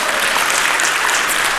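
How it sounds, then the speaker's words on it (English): A church congregation breaks into applause during a sermon, a brief dense burst of many hands clapping at once, loud and steady throughout with no pauses. "Can we get a clap for that?"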